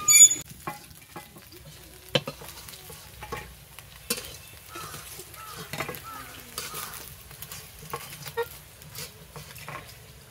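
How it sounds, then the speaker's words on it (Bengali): Coconut fritters frying in a pan, a soft, continuous sizzle broken by scattered scrapes and light clinks of a utensil moving them, with a louder clatter at the start. "এই বড়াগুলো ভাজা হয়ে গেছে, শক্ত শক্ত হয়েছে, ভাজাও হয়ে গেছে।"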